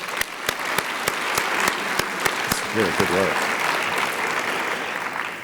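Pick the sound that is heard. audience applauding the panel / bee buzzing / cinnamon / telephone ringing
audience applauding the panel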